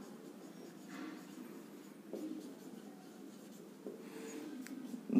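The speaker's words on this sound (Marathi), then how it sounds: "चलो इथे लिहितो मी" Writing on a board during a class 10 maths lecture, faint scratchy strokes in short bursts over a quiet background, with a few louder taps near the end.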